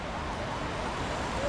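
An emergency vehicle siren wails steadily through dense traffic noise at a busy Bucharest intersection near a taxi stand, continuous and moderately distant.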